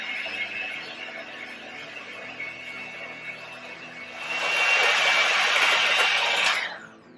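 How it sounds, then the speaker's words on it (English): Egg whites are whisked for a German chocolate cake with an electric mixer, a continuous whirring whine that grows louder and brighter partway through, then stops, close and alone. "now we'll get started on creaming the egg whites, which I have here, and whisk away."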